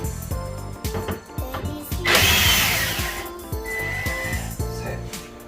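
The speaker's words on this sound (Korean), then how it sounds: "볼트 제거합니다." Power driver whirring in short repeated bursts as it backs bolts out of an LG dual air conditioner during disassembly in a home, with a stretch of hissing noise partway through.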